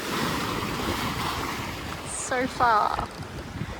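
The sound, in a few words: waves and wind while sailing under spinnaker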